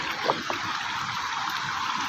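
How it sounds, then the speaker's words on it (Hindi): A stream in rural Assam flows steadily with a broad, continuous hiss of rushing water, fairly close and even in level, with a couple of faint splashes near the start and no talking. "ये तो पानी है।"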